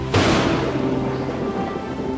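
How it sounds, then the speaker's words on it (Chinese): Steady rain pours down during a long-awaited downpour after a drought, a broad hiss that surges in at the start and holds at a constant level, with faint tonal music running beneath it. "下雨了，你一时也走不了"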